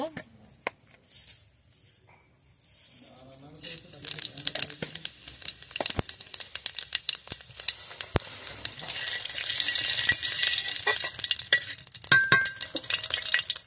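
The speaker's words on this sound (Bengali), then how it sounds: "এবারে আমি ফোড়ন দিয়ে দেব।" Tempering spices dropped into hot mustard oil in a pan for a kundru dish: a quiet start with a brief voice, then a rising, crackling sizzle that stays close and continuous to the end.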